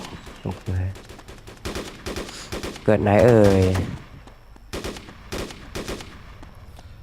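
Rapid bursts of gunfire in Arma 2: Operation Arrowhead DayZ crackle in short volleys, with someone talking over them in between shots.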